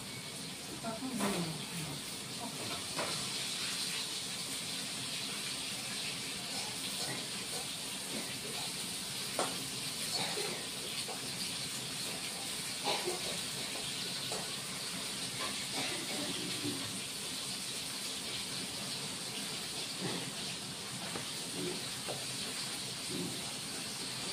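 Snakehead fish fries in hot oil, giving a continuous bubbling hiss with scattered small crackles and pops at an even, moderate level over about twenty-four seconds.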